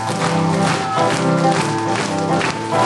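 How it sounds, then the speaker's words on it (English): An audience at a country cowboy show claps along, steady loud hand clapping mixed with music throughout. "Clap them on."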